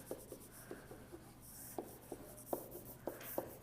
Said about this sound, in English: So again, I'm going to write PEMDAS.